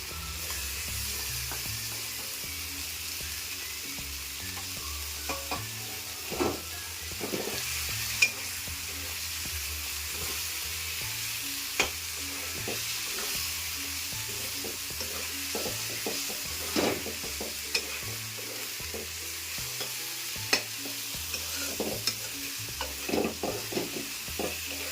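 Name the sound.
prawns frying and being stirred in a pan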